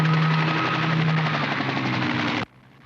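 A helicopter roars loudly overhead above a golf course in Palm Springs, with a steady rotor drone and thumping, then cuts off abruptly near the end.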